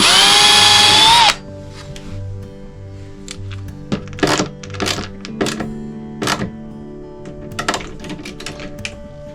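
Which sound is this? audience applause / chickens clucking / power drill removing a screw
power drill removing a screw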